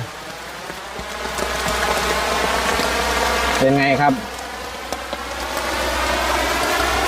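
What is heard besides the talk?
heavy rain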